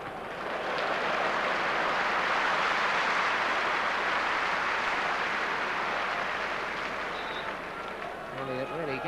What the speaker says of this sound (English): Elliott really getting applause every time he makes one of these well-timed tackles